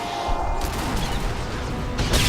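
A Barrage ability attack in Star Wars: The Old Republic, played as a Jedi Sage, lets loose a dense volley of rapid, layered impacts and bursts that carry on steadily at close range with no talking over them.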